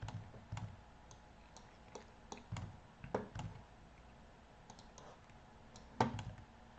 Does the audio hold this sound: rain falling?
no